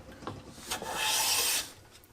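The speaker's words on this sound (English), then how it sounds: "So I'm going to take another series of shavings across here." Hand bench plane drawn across a wooden board, taking a shaving in one steady rasping stroke of about a second after a couple of light scrapes, close and fairly quiet.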